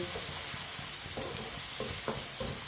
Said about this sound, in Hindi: टमाटर को 2-3 मिनट के लिए पका लेंगे।